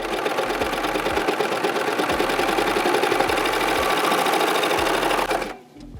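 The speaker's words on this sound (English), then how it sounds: "It's going to stitch through 2 layers of denim." A serger runs fast and steadily while stitching through two layers of denim, giving a loud, even mechanical rattle with a regular low thump that stops abruptly near the end.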